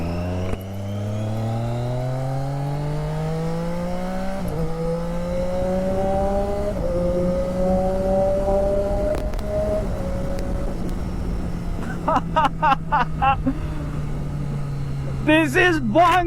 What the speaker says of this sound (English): It has the Aero exhaust and that sweet inline triple. Okay, let's take it for a spin.